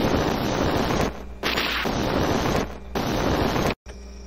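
A Blaze shot attack fires in an arcade game, a loud, dense burst of roaring, blast-like noise holding for about a second, dropping briefly, then surging again for several more seconds before cutting off abruptly.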